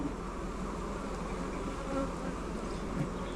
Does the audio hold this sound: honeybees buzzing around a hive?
yes